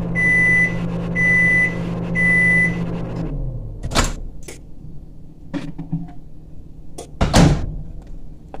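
A kitchen microwave oven finishes heating an egg, giving three evenly spaced beeps over its running hum before the hum stops, followed by the door clicking open and a couple of knocks and clatters.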